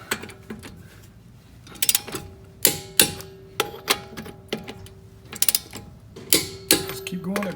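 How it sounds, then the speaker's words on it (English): A torque wrench ratchets lug nuts tight on a 2011 Mustang wheel, giving short bursts of sharp, close clicking with creaks and pauses between strokes. "put the final torque on the lug nuts right now"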